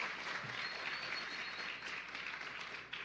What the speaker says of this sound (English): Let's give them all a big round of applause this afternoon for being a part of this celebration.